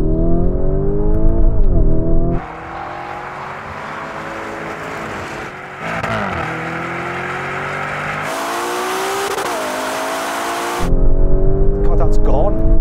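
Ferrari Purosangue launching hard from second gear in manual mode during a drag race against a Lamborghini Urus Performante, its engine roaring loud and rising in pitch for about ten seconds, with a shift midway and talk inside the cabin before and after.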